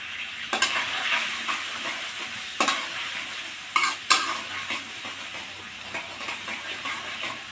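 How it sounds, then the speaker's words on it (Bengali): Spice paste with turmeric and salt is stir-fried in a pan, giving a soft, steady sizzle close by. Several louder scrapes of the spatula break through the hiss as the mixture is turned. "দিয়ে আমি মশলাটা সুন্দর করে কষিয়ে নেব"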